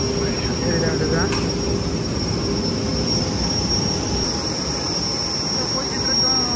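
A small commuter aircraft's engines give a steady, loud high whistle over a broad roar, heard close up from the cabin or boarding area, continuous throughout.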